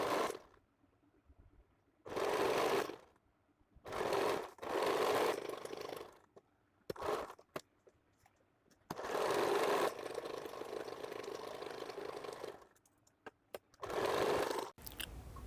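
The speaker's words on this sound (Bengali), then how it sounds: "এবার আমি দাগ অনুসারে সেলাই করে নিচ্ছি।" A sewing machine stitches a sleeveless blouse along marked lines in several bursts of rapid whirring, separated by short pauses, close and clear with no talking.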